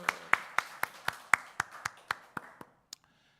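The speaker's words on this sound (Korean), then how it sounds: "박수." A church congregation at a Wednesday worship service claps in unison, about a dozen sharp, evenly spaced claps that slow slightly and fade before stopping, heard clearly in the hall with no talking over them.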